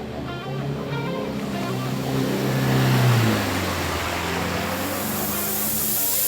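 A ute engine revs as it drives through a creek crossing at Nolan's Brook on a remote Cape York track, water splashing and surging around the wheels, loud and close, with the engine swelling midway then settling.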